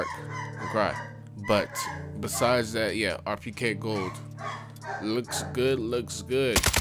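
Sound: dog barking and whimpering in a cage

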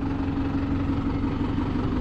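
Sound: TD110 tractor engine idling in a field

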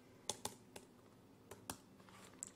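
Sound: typing an email address on a computer keyboard

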